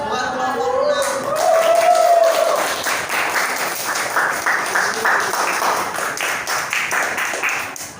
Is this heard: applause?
yes